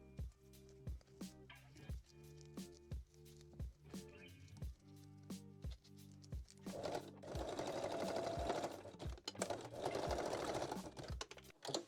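A sewing machine stitches bra straps on a wire-free bralette in short bursts of rapid stitching separated by brief pauses, ending in a longer, louder continuous run; close and clear with no talking.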